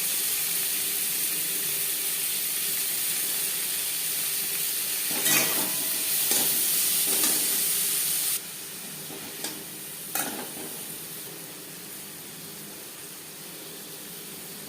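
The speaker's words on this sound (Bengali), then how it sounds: "পটল ভেজে নেওয়া কড়াইতে আবারও তেল দিয়েছি, দিয়ে দিলাম একটা পেঁয়াজ, যেটা আমি কুচি করে কেটে নিয়েছি।" Finely chopped onion sizzles in oil in a kadai that has just fried pointed gourd, a continuous close hiss of frying broken by a few stirring scrapes midway, the sizzle dropping quieter in the second half.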